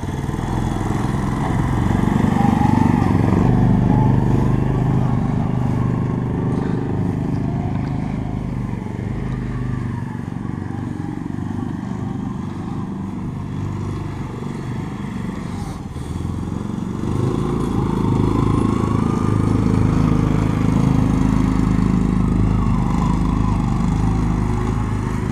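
An Argo amphibious ATV engine runs steadily under throttle, a loud, continuous mid-pitched drone that dips slightly mid-way and then swells again, heard up close.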